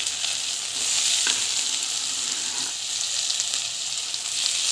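Tomatoes sautéing in a pan for fish gravy, a loud, dense, continuous sizzle that holds steady close up with faint stirring underneath and no voices.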